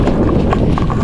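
Horse hooves clip-clop on a farm track near a steep fell, a steady run of distinct knocks over breathy outdoor background.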